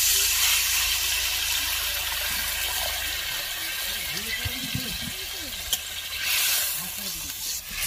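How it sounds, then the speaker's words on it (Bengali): A pan of spice paste and water boils on the stove while cooking an eggplant and fish-head chorchori, giving a steady bubbling hiss with occasional stirring clatter and faint voices in the background. "মশলার জলটা ফুটছে"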